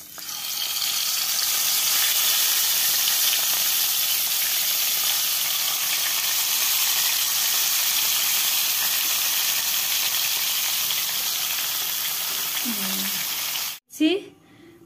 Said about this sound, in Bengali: এর মধ্যে মাছগুলো ভেজে নেব।